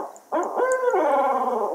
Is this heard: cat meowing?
no